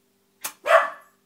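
A dog gives two sharp barks, the first short and clipped, the second fuller and longer, close by and loud with no talking around them.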